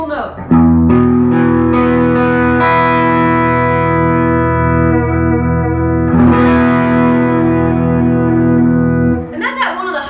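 An electric guitar runs through a Klon Centaur pedal at a high gain setting, sounding a few quick picked notes and then a long ringing chord that sustains loudly for several seconds before a final scrape of the strings.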